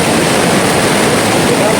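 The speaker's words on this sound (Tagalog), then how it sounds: "Ayun yung maliit na daan ng tubig." Small stream of water flowing through a river, a loud, unbroken rushing wash of water close to the microphone.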